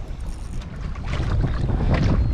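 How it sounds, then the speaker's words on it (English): Wind gusting over the water while fishing from a boat, a loud broad rushing roar with buffeting on the microphone, building in strength, no voices. "It's pretty windy down here"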